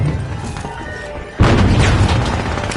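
A frag grenade explodes in a fast arena shooter game, a sudden loud broadband boom cutting in partway through and leaving a sustained rumbling roar with crackling debris.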